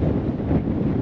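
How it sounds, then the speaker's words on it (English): Strong wind buffets the microphone in a loud, continuous rush of low roaring noise, outdoors in Polignano a Mare or Monopoli, Apulia. "I'm not sure if you can hear me because it's super windy"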